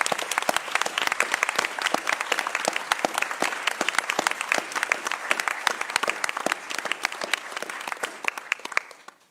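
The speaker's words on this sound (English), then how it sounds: "would we just please give her a round of applause?" A room full of people applauds steadily, dense claps rattling for several seconds before easing off slightly at the end.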